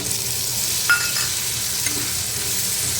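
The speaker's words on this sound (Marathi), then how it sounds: "टोमॅटोसुद्धा परतून घेऊया आता बटाटे घालू याच्यामध्ये" Potatoes and tomatoes sautéing in a pan for a spicy karandi shrimp and potato curry, giving a steady close sizzle with a couple of faint stirring clinks, and no voices.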